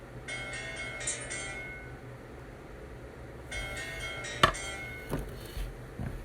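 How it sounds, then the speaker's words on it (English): A phone ringtone chimes in two bursts of bright repeating tones, heard across the room, with a few sharp knocks and chops nearby in a kitchen while making biscuits. "That's my other phone ringing over there."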